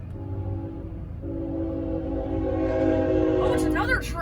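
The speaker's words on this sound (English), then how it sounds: "Oh, it's another train. It's actually another train." A freight train passes near a railroad crossing in Madison, its rumble and sustained horn blasts loud and steady throughout, with a person talking over it.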